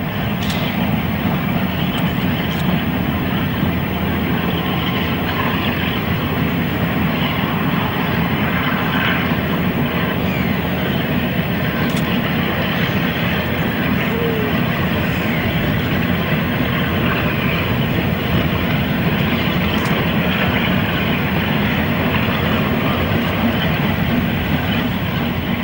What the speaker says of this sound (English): Here's the Loco at St Winnows.